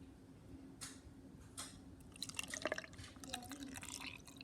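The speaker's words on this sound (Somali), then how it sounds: "waxaan ku shubaa marka caano ku shubayaa" Milk is poured into a potato pancake batter with grated potato, making soft, quiet liquid splashes and drips that build into a brief gurgling trickle near the end.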